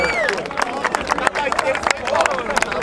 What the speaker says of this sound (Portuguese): Palmas pra essa batalha, família!